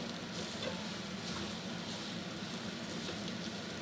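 Ivy gourd frying in a pan with chilli powder and curry leaves, stirred steadily under a constant loud sizzle with faint scraping of the spoon, no talking.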